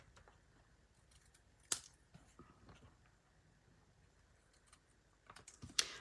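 Scissors trimming a paper craft piece for a card, with a couple of sharp snips standing out against a quiet room, one near the start and another near the end.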